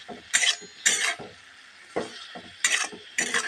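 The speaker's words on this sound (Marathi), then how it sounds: "छानपैकी परतून घेऊया." Pathari greens are stirred in an iron kadhai, with five sharp, separate scraping strokes of a spatula against the pan close up and quiet pauses between them.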